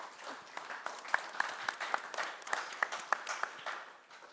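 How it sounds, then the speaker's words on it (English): An audience applauds a conference panel in Ireland, steady moderate clapping from a mid-sized crowd heard somewhat distant, with a few sharper individual claps standing out, no talk over it. "please give my panelists a very warm round of applause"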